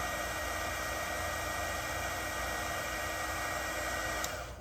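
A heat gun blows a steady, even hiss of hot air onto heat-shrink tubing, unbroken and fairly quiet throughout.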